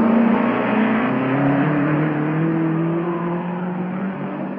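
A 1957 Formula 1 race car driven by Lewis Evans through Woodcote corner at Goodwood during the Glover Trophy, its engine a loud, steady high-pitched drone with slowly falling pitch as it sweeps past close by.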